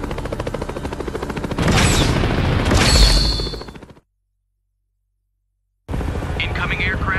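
A military helicopter in Transformers (2007), the Decepticon Blackout, gives a steady rotor drone that swells louder midway, cuts out abruptly into silence, then resumes alongside a voice.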